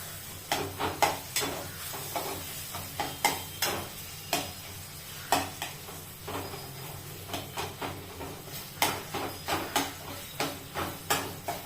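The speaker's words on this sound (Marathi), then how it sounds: "या तुपामध्ये छान परतवून घ्यायचे" Food sautéing in ghee in a pan while a spoon stirs it, with soft sizzling under a run of irregular scraping and clinking strokes, close and moderately loud.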